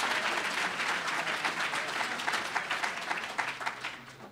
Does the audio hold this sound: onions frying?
no